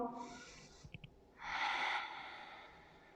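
During a yoga side arm-balance pose, a quiet close breath is heard: a short sniff, then a long, airy exhale lasting about half a second.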